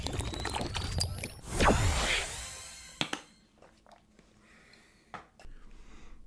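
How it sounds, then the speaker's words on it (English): A person takes a swig of water close up: a rushing, pouring burst, then quieter clicks and small mouth and swallowing noises. "let me take a swig of water real quick"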